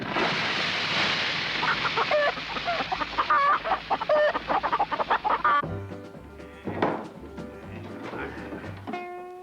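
Chicken clucking in quick, choppy bursts, fairly loud and close, with a busy rhythmic backdrop joining partway through.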